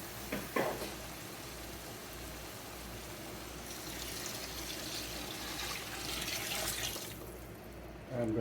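Water pours steadily into a pot of Mexican meatball soup, a soft, continuous rushing splash at low volume that swells slightly toward the end.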